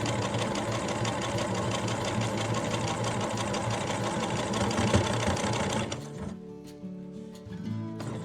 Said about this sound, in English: Doing a pretty tight stitch on these just so that they hold together pretty well.